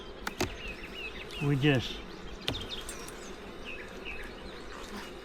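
Honeybees buzzing around an open backyard beehive during an inspection, a steady close swarm hum with individual bees droning past the microphone, and someone speaks briefly.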